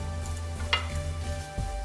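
Hilsa fish eggs frying in a pan give a soft, continuous sizzle, with a brief scrape near the middle and a low thump toward the end.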